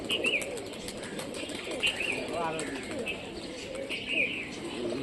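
Pigeon landing and cooing, with brief soft wing flaps and repeated low coos at moderate distance over a faint outdoor background, while people talk nearby.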